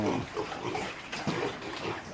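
Sows in a pig pen grunting and snuffling close by, a run of low, rough oinks amid some wet background noise.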